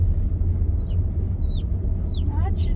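A baby chick peeps from somewhere inside a car, a few faint, high, thin chirps over the steady low rumble of the vehicle's interior.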